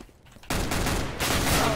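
Counter-Strike: Global Offensive gunfire on a custom map, a sustained burst of rapid shots kicking in abruptly after a quiet moment and continuing loud and dense, with a second surge near the end.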